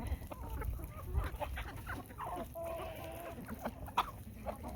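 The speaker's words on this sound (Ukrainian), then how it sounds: "Це бентам півники, кохіни." Bantam Cochin roosters clucking close by in short, irregular bursts, fairly quiet, with soft farmyard background noise.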